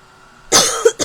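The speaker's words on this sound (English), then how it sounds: "I still have a post-COVID cough" A single harsh cough from an adult with a lingering post-COVID cough, loud and close, followed by a brief second burst of breath.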